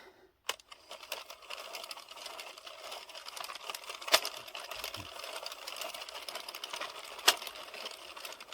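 An addi 22-needle knitting machine runs with a steady mechanical whirring rattle, broken by two sharp, louder clicks from its row counter registering the row, up close with no talking.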